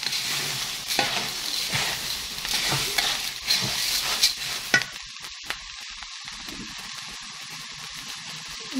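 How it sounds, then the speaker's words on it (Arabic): Chicken wings and onions stir-fried in a pan, a dense hiss and sizzle with stirring knocks, then quieter bubbling with scattered clinks in the second half, with no talk. "شوحهم بس كده 5 دقايق بالظبط مع البصل"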